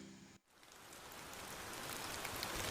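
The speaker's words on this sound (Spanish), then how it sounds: "grandes gotas de lluvia comenzaban a caer sin previo aviso." Large raindrops begin falling suddenly at night in the first rain after the Mid-Autumn Festival, a soft rain hiss that swells steadily from near silence, ending with a sharp louder hit.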